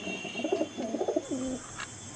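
Racing pigeons of Andhra and Madras breeds coo in a few soft, throaty bursts close by, with faint background noise and no talk.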